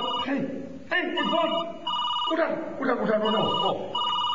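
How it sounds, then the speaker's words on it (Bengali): A telephone bell rings indoors in a Bangla comedy drama, with loud, repeated electronic trills broken by short pauses, and voices can be heard around it. "ফোনটা আমাকে উঠান।"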